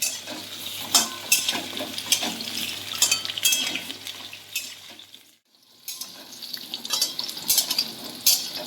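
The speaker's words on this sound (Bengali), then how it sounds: "এবার আমি পেঁপেগুলো ভেজে নেব পেঁপেগুলো দিয়ে দিলাম পেঁপেগুলো একটু হালকা আবার ভেজে নেবো" Papaya pieces fry lightly in a pan for a mixed vegetable curry, a close continuous sizzle with repeated stirring scrapes and clinks, briefly cutting out in the middle before resuming.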